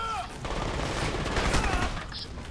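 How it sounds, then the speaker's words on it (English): Bursts of incendiary bullet gunfire in the shooter game Crysis, a dense rapid volley that swells through the middle and then fades, with faint game effects at either end. "Incendiary bullets are nice."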